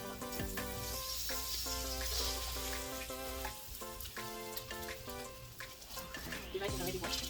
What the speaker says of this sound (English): Stir it together and fry